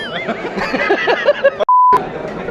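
A single short electronic censor bleep cuts sharply into lively chatter at a content-creator event in Bangalore, with voices and light laughter on either side of the tone.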